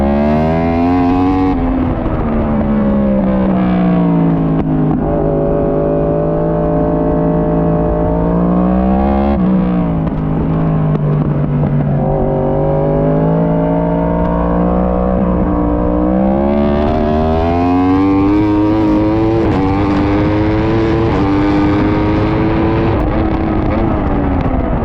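A racing motorcycle engine roars throughout a track race, loud and close, revving up and down through gear changes with a strained, wavering pitch and no talk over it.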